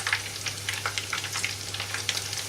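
Shrimp deep frying in a pot of oil, a steady close sizzle with frequent popping crackles scattered through it and a low hum beneath.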